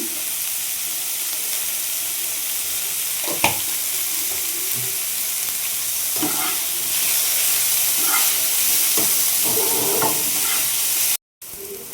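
Capsicum, carrot, onion and beans fry in a pan with a steady loud sizzle close up, broken by occasional scrapes and stirring clatters, with a brief cut near the end.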